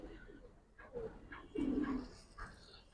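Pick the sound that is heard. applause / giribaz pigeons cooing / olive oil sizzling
giribaz pigeons cooing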